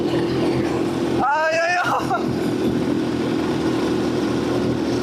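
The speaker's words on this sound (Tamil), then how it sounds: "அல்டிமேட்டு கிளம்பிடுச்சுங்க வண்டி" A homemade paramotor engine drones steadily and loudly throughout, a constant motor tone, while a person speaks briefly over it near the start.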